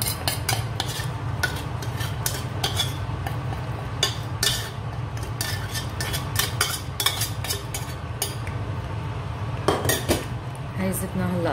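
Fried onions are stirred into a pot of black-lentil mujaddara, with frequent metallic clinks and scrapes of a spoon against the pot over a steady low rumble.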